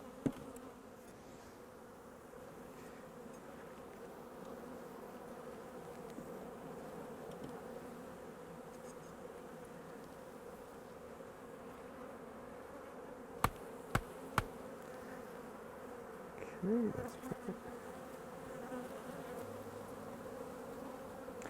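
Honey bees swarming produce a steady, low droning buzz that fills the whole stretch, with a few sharp clicks and knocks partway through and no voices.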